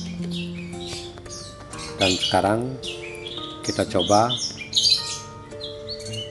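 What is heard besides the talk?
orange-headed thrush (anis merah) calling in a cage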